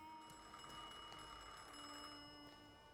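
A telephone rings in The Thaumaturge video game, a faint, continuous trilling bell tone held over a quiet background, with no speech.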